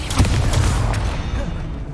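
Confringo and Expulso spell blasts in the game Hogwarts Legacy, a couple of loud booming impacts in quick succession with rumbling decay, fading toward the end.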